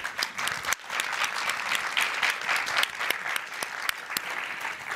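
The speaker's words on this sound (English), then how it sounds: "a round of applause." An audience at a panel discussion on sexual and reproductive health bursts into sustained clapping, a dense, even wash of applause from a room full of people.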